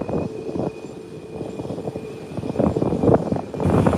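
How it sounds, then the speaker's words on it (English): A British Airways airliner taxiing at an airport, its engines making a steady broad roar that swells slightly toward the end, heard fairly close with no voices. "There is the British Airways taxiing to park"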